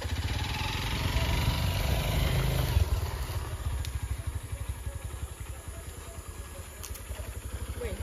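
A motorcycle engine revs loudly and then settles into a rapid putter as it rides away, with faint voices underneath.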